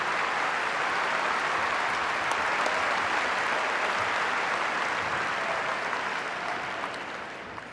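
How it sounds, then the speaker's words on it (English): A graduation audience at Wayzata High School applauds the class of 2016 with broad, steady clapping, a continuous crowd wash that slowly fades toward the end. "Audience, please join me in a round of applause to recognize the many accomplishments of the class of"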